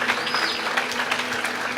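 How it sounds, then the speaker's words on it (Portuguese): A church congregation applauds loudly during a sermon, a thick, continuous patter of clapping with a faint tonal hum underneath and no voice cutting through. "pode aplaudir mais forte"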